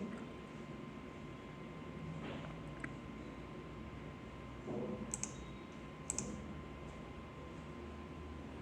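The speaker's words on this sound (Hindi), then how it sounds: "तो हम यहाँ पे क्लिक करेंगे।" Computer mouse clicks, a few faint, sharp, isolated clicks spread over a quiet room background with a low steady hum.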